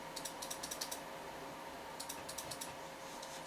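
A 3D printer run through OctoPrint raises its print head a tiny amount above the bed, giving two quick bursts of faint, rapid clicking stepper ticks separated by a pause, quiet and close with no talk.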